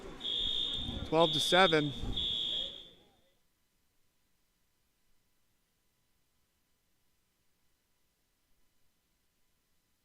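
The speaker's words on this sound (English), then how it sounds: "As you guys can probably hear, this fire alarm is still going." A school fire alarm in a gym during a 16U boys water polo game sounds as a loud, steady high buzzing tone under a spoken voice for about three seconds, then silence.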